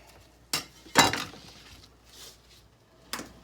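Cut beets tipped into a cooking pot for borscht, heard as a few sharp clinks and clatters against the pot, close and distinct, with quiet pauses between them and no talking.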